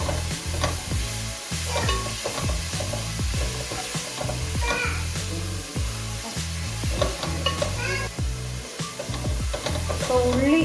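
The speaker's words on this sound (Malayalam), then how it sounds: "ചതച്ച് വെച്ചിരിക്കുന്ന കൊച്ചുള്ളി കടിയിൽ കൊടുക്കുക. അതും കൂടെ നല്ലോണം വഴറ്റണം." Crushed shallots are sautéed in a pan for chicken dum biryani, with a steady sizzle and repeated rhythmic scraping of a stirring spoon under background music.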